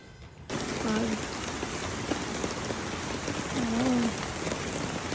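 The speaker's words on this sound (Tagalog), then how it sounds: "Lakas na ulan!" Heavy rain pours down in a dense, constant hiss that sets in suddenly after a brief quieter moment and continues without pause.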